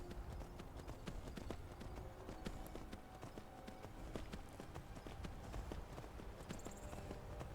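Steady clip-clop of horse hooves walking at an even pace in the video game Skyrim, with a continuous low ambient bed and occasional faint chimes in the background.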